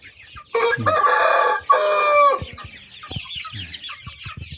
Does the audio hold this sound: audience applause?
no